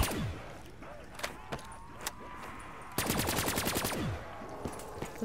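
Drakon sniper-style gunfire in Call of Duty Black Ops III zombies, several sharp single shots spaced apart, then a fast burst of rapid fire lasting about a second, with game sounds between.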